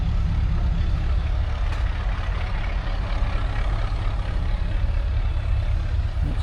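A Bedford TK lorry at a rural show idles with a steady, deep diesel rumble. It sounds close and continuous, with no voices.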